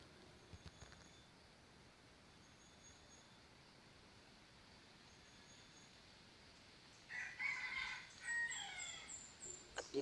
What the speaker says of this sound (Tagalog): parang takot yung labuyo sa ating pangati mga idol kasi napakalaki yung tilaok